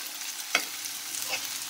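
White eggplant frying in a pan gives a steady, close sizzle, broken by a couple of brief stirring scrapes.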